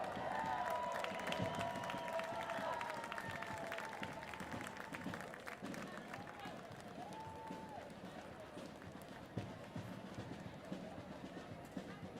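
Street parade crowd applauding the Marine Forces Reserve Band at a Krewe of Oshun parade in New Orleans, scattered clapping and cheering heard at a distance amid outdoor bustle and tonal sounds.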